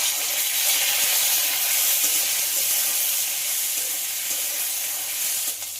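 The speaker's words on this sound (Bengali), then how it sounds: "তাই আলুটা খুব ভালোভাবে ভেজে নিতে হবে" Potatoes and sour hog plum sizzle steadily in a hot pan, a dense continuous frying hiss holding at an even level throughout with no voices.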